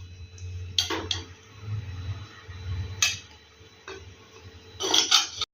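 Plate and utensils clinking as ivy gourd (kovakka) fry is served on a decorated plate: a few sharp, close clinks and scrapes spaced out over several seconds, with a low hum beneath.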